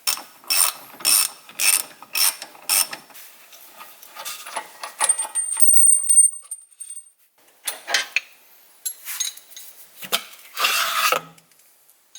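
A wrench ratchets on the two bolts of an old steering stabilizer during removal, with rapid rhythmic clicking bursts close by, short pauses and a faint metallic whine.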